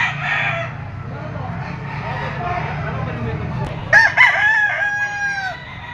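A three-year-old Golden Boy Boston gamecock crows at a livestock auction market in Lipa, a clear rising call in the final seconds over a steady crowd murmur and engine rumble, with people talking nearby.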